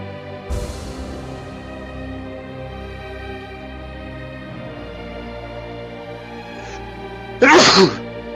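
A single sharp, loud sneeze bursts out near the end, close to the mic, after several quiet seconds of low room tone and faint background music.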